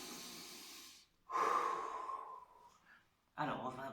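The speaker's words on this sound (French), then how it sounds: "on va prendre une grande respiration profonde" A deep, slow breath taken during a laughter yoga session, a long breathy inhale and exhale with a short pause, close to the microphone and moderately loud.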